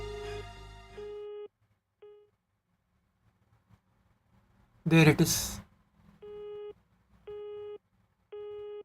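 A telephone busy signal in the video game Fate Grand Order: evenly spaced, repeating electronic beeps, loud and clear, broken by a short stretch of silence and a brief burst of voice in the middle.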